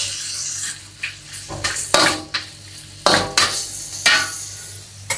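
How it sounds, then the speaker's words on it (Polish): Chicken sizzles in a wok while a utensil scrapes and clanks against the pan in several sharp, uneven strikes. "Ja mam tutaj takiego woka i sobie na tym woku będę tutaj smażyła"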